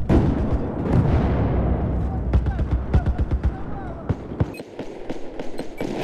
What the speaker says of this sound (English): they're mortaring from over by A